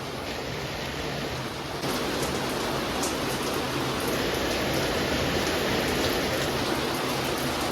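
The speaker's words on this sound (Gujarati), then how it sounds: "તો વરસાદ આવી ગયો છે જોરદાર" Heavy rain pours down steadily in a dense, unbroken hiss at close range, holding an even loudness throughout with no voices.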